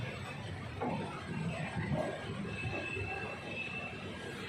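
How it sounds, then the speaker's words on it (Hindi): Udaipur City Express pulling into platform 1 at Raiwala station, a steady close rumble of rolling wheels and coaches with a faint high squeal running through, heard alone. "रायवाला में अराइविंग करती हुई 1 नंबर प्लेटफॉर्म पर ट्रेन"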